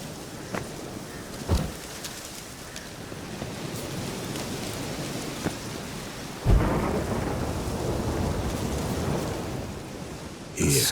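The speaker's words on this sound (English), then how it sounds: "The storm." Thunderstorm in The Witcher 3: Wild Hunt, with steady heavy rain hissing throughout, a thunder rumble near the start and a loud close crack of thunder midway, followed by rolling rain.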